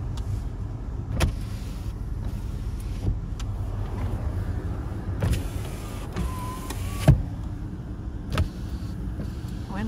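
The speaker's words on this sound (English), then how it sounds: "Windows function properly." Power windows on a Nissan Sentra running up and down inside the car, a steady motor whir with soft thumps as the glass stops, close and fairly loud with no talking.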